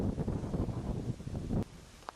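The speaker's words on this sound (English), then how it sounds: "we're going to leave it there because it's clearly too windy" Strong gusty wind buffets the microphone outdoors during a mini drone flight, a loud, steady low roar that drops away abruptly near the end, leaving a quieter hiss.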